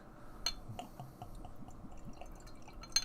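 Gutted Belgian strong dark ale from Anchorage Brewing Company is poured into a glass, giving faint, sparse drips and light clinks against a low background hiss, with no one talking.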